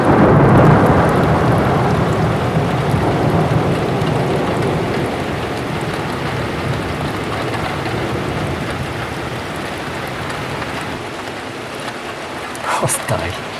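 Moderate winter thunderstorm with rain and snow at Sallanches, a steady broadband wash of precipitation and rumble filling the scene, loudest at the start and easing slightly, with a brief sharper burst near the end.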